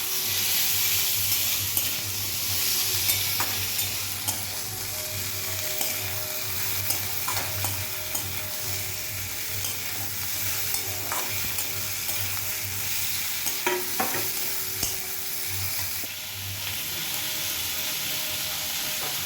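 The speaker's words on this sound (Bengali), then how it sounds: "এরকম তেলটা বেরোলে তার মধ্যে টমেটোটা দিয়ে কিছুক্ষণ মজিয়ে নেবেন।" Tomato frying in oil for a sardine curry, a steady close sizzle with frequent spatula taps and scrapes against the pan, continuing evenly without speech.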